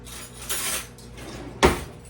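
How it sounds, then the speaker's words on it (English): Metal spoons rattle and clink in a kitchen cutlery drawer, a brief jingle followed by one sharp, close clatter as a spoon is pulled out, with no talking. "Let me get me another spoon here"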